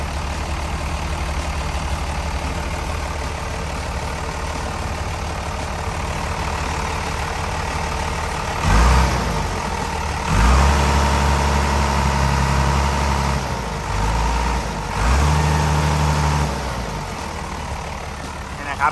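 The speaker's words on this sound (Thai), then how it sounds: "เครื่องยนต์เขาเนี่ยก็ทำงานได้แน่นปกติดีเลยนะครับ" The Komatsu 6D102 diesel engine of a Komatsu WA150-3 wheel loader idles steadily and close by, with a low rumbling hum, briefly revving louder a few times partway through.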